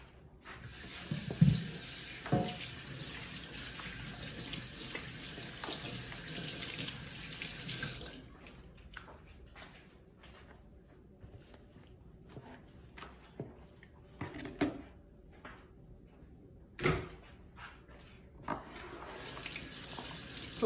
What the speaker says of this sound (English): Let me wash my hands and I will show you.